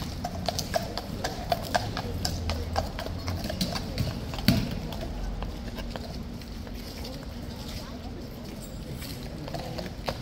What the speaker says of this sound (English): Clippy clopping over into the box.